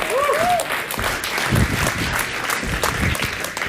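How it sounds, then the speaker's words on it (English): Audience applause for a speaker named James at an education summit, a dense, steady clapping from a crowd lasting throughout, with a brief whistle-like tone near the start. "Let's give James a round of applause."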